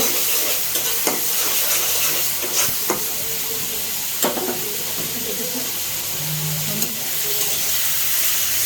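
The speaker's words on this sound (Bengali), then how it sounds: "পেঁয়াজ কিছুটা দিয়ে ভালো করে নেড়ে চেড়ে একটু বাদামি কালার করবো" Chopped onion fries in hot oil for a curry, sizzling steadily with a faint hiss. Occasional scraping stirs and utensil taps sound close by, with no talk.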